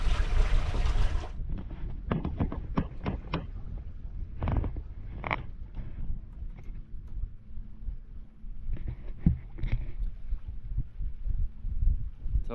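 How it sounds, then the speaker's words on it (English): A sailboat moves through a channel with water sloshing and splashing against the hull under steady wind rush. A loud gust of wind noise at the start gives way to softer, uneven knocks and swishes. "right now I'm sailing through this channel"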